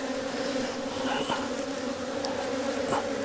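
Honey bees hum steadily around an opened hive during a split, a close, continuous drone with a few louder passes near the listener and no speech.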